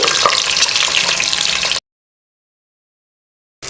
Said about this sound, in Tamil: குக்கரில் எண்ணெய் ஊற்றியிருக்கேன். அதில் முட்டையை வறுத்துக்கலாம்.